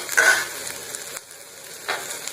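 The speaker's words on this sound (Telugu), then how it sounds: "ఒక చిన్న అల్లం ముక్క నాలుగు వెల్లుల్లిపాయలు వెల్లుల్లిపాయ రెబ్బలు దీన్ని కూడా ఇలా ఆయిల్లో ఫ్రై చేసుకున్నాం" Ginger and garlic fry in hot oil with a soft, steady sizzle, swelling in two brief hissing bursts.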